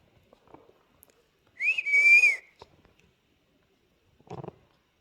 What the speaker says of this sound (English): I'm going to watch him whistle.